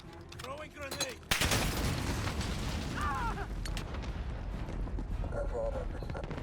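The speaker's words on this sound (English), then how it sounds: "Throwing grenade." A grenade blast in Modern Warfare 2019 Domination gameplay, a sudden loud boom followed by sustained rumbling noise and distant gunfire, with in-game voices around it.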